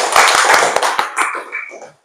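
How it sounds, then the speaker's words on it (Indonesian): A classroom of pupils claps hands in a short burst of quick, sharp slaps that thin out and trail off within about two seconds. "Bagus, tepuk tangan."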